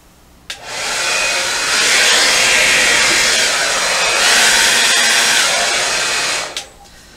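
A hair dryer blows steadily across an acrylic Dutch pour painting, switching on with a click, holding a loud, even whoosh for about six seconds with slight swells, then clicking off.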